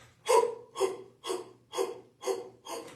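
Six slow, even breaths drawn in and pushed out through a new breathing device, each a close, airy rush with short gaps between, over a faint low hum.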